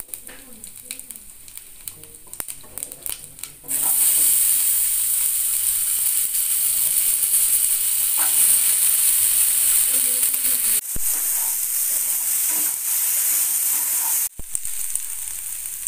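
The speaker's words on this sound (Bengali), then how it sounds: "এইবার আলুগুলোকে ভেজে নিতে হবে ভালো করে।" Potatoes hit hot oil seasoned with five-spice in a pan, bursting into a loud steady sizzle after a quiet start, with brief stirring pauses and the frying continuing close up.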